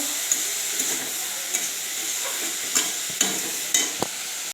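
Bitter gourd and potatoes fry in a pan as a spoon stirs them, a steady loud sizzle with several scraping strokes at regular intervals.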